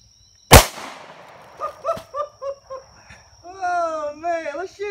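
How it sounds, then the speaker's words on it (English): A single loud, close pistol shot from a Kimber Pro Raptor II .45 caliber firing +P ammunition into a watermelon, a sharp crack followed by excited voices. "I got 45 caliber plus P ammunition. Let's see if we can explode that bad boy."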